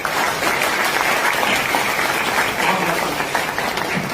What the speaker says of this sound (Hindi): संचालक मंडल के सदस्यों के लिए जबरदस्त तालियां बजाने का